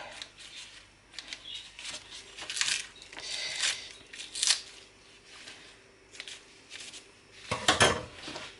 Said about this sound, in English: Scissors to do the rest of the job.